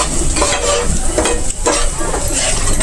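A spoon stirs spice powders (coriander powder and kitchen king masala) into paneer masala in a pan. The mix sizzles and fries steadily and loudly, with scraping stirs across the pan and no talk.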